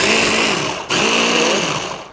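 An electric mixer whirs through softened butter for a cheesecake crust, a loud steady motor drone that cuts out briefly, restarts, then tapers off.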